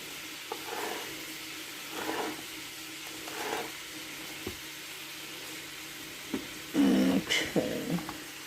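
Peppers and onion sauté in a pan for string beans, giving a soft, steady sizzle with gentle stirring scrapes, then a louder burst of clatter and sizzle near the end; no one talks.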